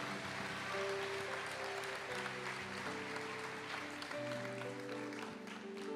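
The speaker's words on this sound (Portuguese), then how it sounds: "Aplauda ao Senhor." A church congregation claps together in praise during a worship service, a steady dense wash of applause over sustained music, with no spoken words on top.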